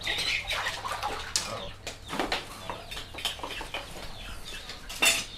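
Two flocks of chickens on a Vietnamese rural homestead, with scattered clucks and rustling, flapping movements under light clattering, close by and no clear talk.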